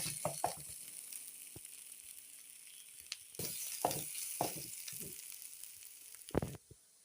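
Ground fish frying with onions in a pan for fish cutlets gives a faint, steady sizzle, broken by several close scrapes and knocks of stirring.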